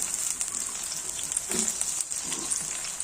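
Shallots and snake gourd fry in a pan for a snake gourd theeyal, giving a steady, close hiss and sizzle that holds evenly throughout with faint crackles.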